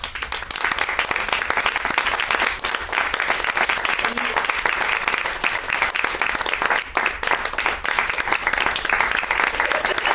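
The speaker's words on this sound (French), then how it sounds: "Faut arrêter d'applaudir, sinon je ne parle pas." An audience at a comedy sketch show applauds with dense, sustained clapping at a loud level for the full stretch, and a voice can be heard faintly underneath.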